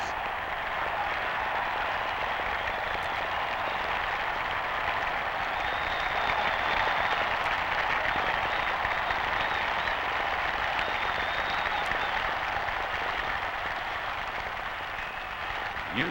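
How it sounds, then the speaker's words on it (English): A university rooting section in a 1954 college football stadium applauds from the stands, a broad, even wash of distant crowd clapping that continues without a break, slightly hissy like rain. "UCLA rooting section applauds his effort."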